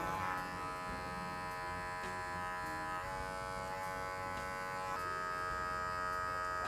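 An electric hair clipper hums steadily while cutting a short textured mullet and taper, a close, continuous buzz with slight pitch shifts as it moves through hair and no talk.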